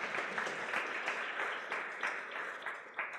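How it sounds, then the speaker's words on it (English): A forum audience gives a short, faint round of applause with steady, overlapping claps heard from a distance throughout. "A quick hand of applause."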